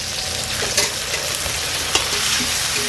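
A ground spice paste with a little water fries together with rohu fish curry and potatoes, a loud steady sizzle with stirring scrapes and a couple of sharper clinks, no talking.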